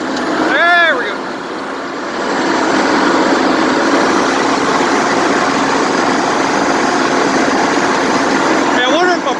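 Allis-Chalmers HD7 crawler tractor engine idling after a cold start following winter, a loud steady diesel clatter and rumble throughout, with brief squeaky whines near the start and end.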